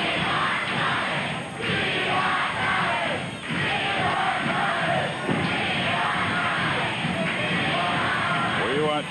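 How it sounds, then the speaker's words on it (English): Wrestling arena crowd at a Tommy Rogers versus Abdullah Ali Hassan match chanting for Tommy, a loud, dense rhythmic roar of many voices rising and surging in repeated waves throughout. "We want Tommy, a cry of the crowd."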